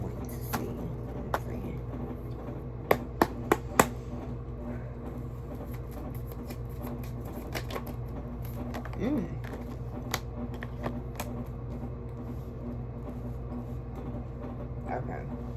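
Soft shuffling and riffling of cards with a few sharp clicks, low and steady beneath a quiet room hum, close by.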